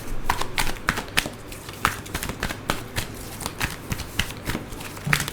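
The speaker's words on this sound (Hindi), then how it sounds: "ऑलराइट, मैं यहाँ से एक दो कार्ड और ले लूँ" Tarot cards shuffled and drawn during a Hindi tarot reading: a steady run of crisp, close flicks and riffles with soft papery slaps, repeating quickly and unevenly with no talk.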